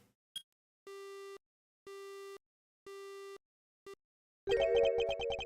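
A telephone busy signal in a video game: three even, clean tone bursts with a short blip before and after, then a burst of harsh, loud, distorted electronic noise at the end.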